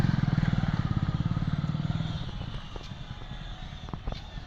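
A motorcycle being parked by a lake idles close by with a steady, rapid thumping that fades out as the engine cuts off, followed by light clatter and handling noises.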